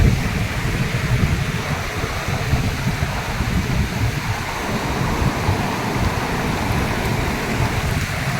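Floodwater from a river rushes across paddy fields in a continuous broad wash of moving water, fairly loud and steady, with no talking.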